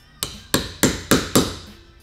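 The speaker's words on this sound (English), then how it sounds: "hit the end with the hammer" A hammer strikes the end of a wedge during a Toyota Tacoma LED light bar install, five sharp metallic knocks in a steady rhythm, close and fairly loud, with no talk.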